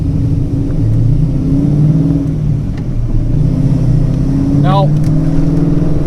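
A cammed Foxbody Mustang 5.0 V8 idles loudly up close with a low, lumpy, uneven rumble, and a brief voice is heard over it.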